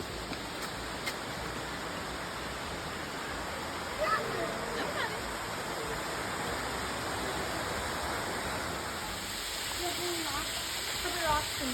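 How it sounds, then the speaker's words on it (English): A small waterfall in the Hocking Hills woods of Logan, Ohio, gives a steady broadband rush of falling water at moderate distance, with faint bird chirps and brief rustles over it. "We even made our way to a little waterfall off the beaten path"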